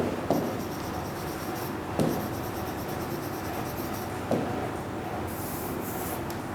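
Chalk or marker strokes on a classroom board as a physics definition is written, with three distinct tapping contacts spaced across soft continuous scratching and rubbing, close and moderately loud, with no talking.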